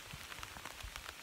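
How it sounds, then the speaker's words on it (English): Heavy rain pouring down on a boat on the Göta Canal in Sweden, a faint, steady hiss of patter with dense scattered drops and no voices. "it's pouring down, raining cats and dogs"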